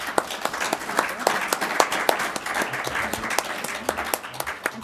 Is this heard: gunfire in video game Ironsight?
no